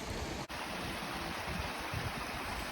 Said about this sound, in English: we're sitting in front of the Tom's Run Creek, so you hear the beautiful sounds of the creek